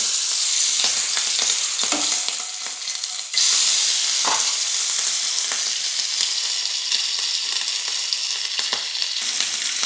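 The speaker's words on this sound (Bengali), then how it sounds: "তেলটা গরম হয়ে গেছে, এবার মাছগুলো দিয়ে দেবো।" Fish fry in hot oil with a loud continuous sizzle and crackle, punctuated by sharper pops and a brief surge of spattering partway through, with no voices.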